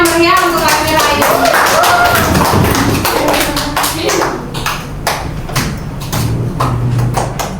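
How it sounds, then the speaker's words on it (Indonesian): A school group claps for a pupil called up to present, loud, close hand claps with some thumps and children's voices mixed in, the clapping rising and thinning unevenly. "beri tepuk tangan yang meriah untuk Almira"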